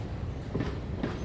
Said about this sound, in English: I see a train moving behind you.